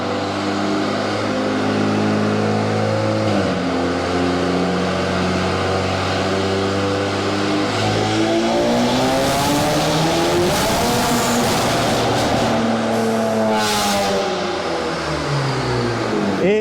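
An Audi RS5 Sportback, Stage 1 tuned and running E85, revs hard on a dyno, its engine note sweeping up through the gears with shifts and a steady loud roar throughout, no voices.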